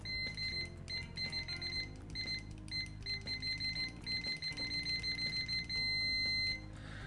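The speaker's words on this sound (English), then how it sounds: "So loud, quite consistent, definitely the best so far of the other ones we've looked at." UNI-T multimeter sounding its continuity beep through silicone test leads: a high, loud tone repeating in short bursts and longer held stretches, clear and close over a faint low background hum.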